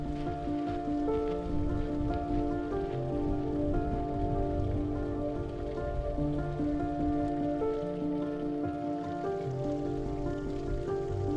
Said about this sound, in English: Pouring rain, windy on the summit.